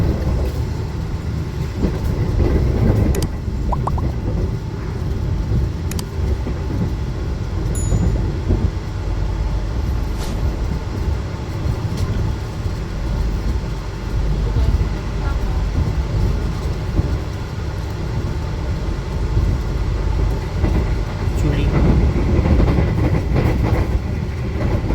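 Steady low rumble and rattle inside a moving executive-class Argo Dwipangga New Generation train carriage, continuous rolling noise throughout with faint occasional clicks.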